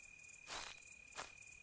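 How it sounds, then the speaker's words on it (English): Crickets chirping faintly underground in a physics sandbox survival game, a steady high-pitched insect trill with two brief soft rustling bursts over quiet ambience. "I can still hear crickets all the way underground."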